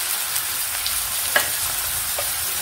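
Onions sizzle steadily in a hot pan with a constant broadband hiss, a few light clicks of stirring cutting through now and then, no voices.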